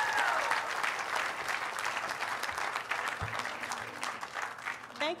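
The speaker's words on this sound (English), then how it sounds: "Please give them and all who supported them a big round of applause." Audience applauding at a Brown University sociology departmental commencement ceremony in 2023, steady moderately distant clapping from a large crowd that carries through the whole stretch.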